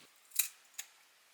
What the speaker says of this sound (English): which makes it easier to cut them cleanly with scissors